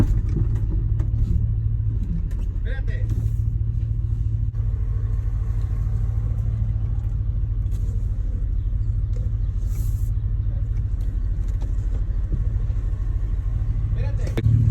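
A new truck idling as it is parked, a steady close engine rumble running throughout with faint clicks and knocks, and voices talking over it.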